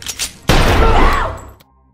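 A single loud gunshot in a mafia hitman film, one sharp blast followed by a brief ringing decay, then silence.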